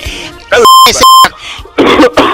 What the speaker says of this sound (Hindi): खांस रहा है